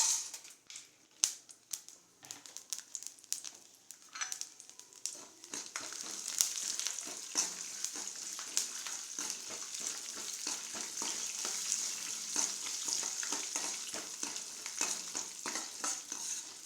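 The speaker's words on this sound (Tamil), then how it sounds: "இப்போ நம்ம எடுத்து வச்சுருக்கிற பூண்டு, கடலப்பருப்பு, உளுத்தம்பருப்பு எல்லாத்தையும் போட்டு நல்லா வறுத்துக்கலாம்." Garlic, chana dal and urad dal fry in hot oil for tomato chutney. A few clinks of a spoon come first, then a steady close sizzle runs underneath while the mixture is stirred, with no talking.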